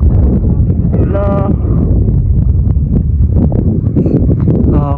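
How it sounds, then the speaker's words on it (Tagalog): Strong gusts buffet the microphone in a loud, continuous rumble while a triangular kite and a layangan pegon kite are flown, with brief shouting voices cutting through the roar. "okay na yung hangin. Lumalakas na."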